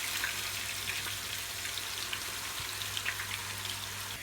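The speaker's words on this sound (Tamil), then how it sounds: "எண்ணெய் ஏற்கனவே கொதிச்சிச்சு. அதனால் பாவக்காய் வந்து வறுத்துக்கலாம்." Sliced bitter gourd fries in hot oil with a steady, close sizzle and a bubbling crackle that runs through the whole stretch.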